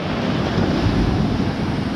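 Waves boom against the shore below a cliff at a fishing spot, a steady, loud, close roar of surf and rushing water with wind buffeting the microphone.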